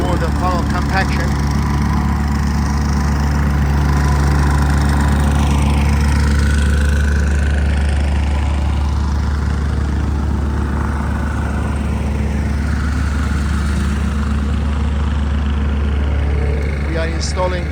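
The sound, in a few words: compactor machine compacting gravel driveway base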